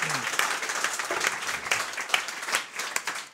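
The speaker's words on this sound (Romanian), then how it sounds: "Vă rog să-l aplaudați!" An audience at a Romanian roast battle comedy show applauds a comedian's introduction, lively dense clapping with scattered sharper claps and a brief trace of voice at the start.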